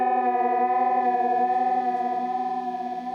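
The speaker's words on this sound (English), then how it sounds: "There's a sound that I've got which is like a kind of queasy, it's like a kind of queasy sort of sick sound." A queasy, seasick-sounding synth effect sweep with a wavering, detuned tone that drifts and wobbles steadily at a loud, close level for about three seconds, no voices.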